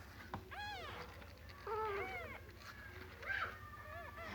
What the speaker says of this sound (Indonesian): Jadi anak kucing yang sering kali meong-meong tersebut terus menerusan biasanya masih berusia muda